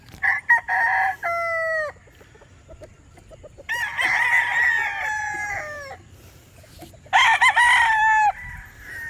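Roosters crow in long drawn-out calls, three loud crows in all, with shorter clucks and calls from chickens between them. The birds are close by, and no one is talking.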